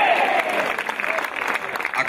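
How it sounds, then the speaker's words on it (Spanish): A church congregation claps hard in a dense, sustained burst of applause that fills the space, while a voice carries over the top. "Fuerte palma para Dios"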